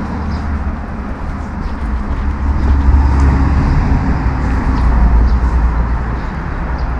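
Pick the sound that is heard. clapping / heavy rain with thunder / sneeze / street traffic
street traffic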